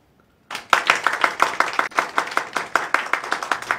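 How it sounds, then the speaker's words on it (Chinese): A small group bursts into applause for a lawyer in an office after a short silence. The clapping is brisk and rhythmic, sounds fairly close, and continues without talk. "现在让我们大家用最热烈的掌声"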